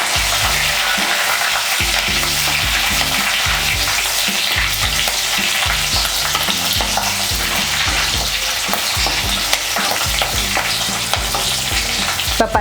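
Split green chili and curry leaves fry in hot oil for Chettinad crab masala, giving a loud, steady sizzle up close, with occasional stirring scrapes and no voices throughout.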